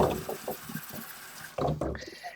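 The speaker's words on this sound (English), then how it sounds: "So I like to rinse that off, especially if I was cleaning something that was sugary, right?" Tap water runs over the turbine part of a Shark StainForce cleaner, rinsing it in short splashing bursts close by, with a person talking between the splashes.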